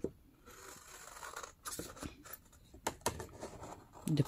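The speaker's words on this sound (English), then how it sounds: "Sorry for that noise of my scissors." Several crisp snipping and scraping bursts of scissors cutting paper at an uneven pace, close by, with quiet pauses between cuts; no talking.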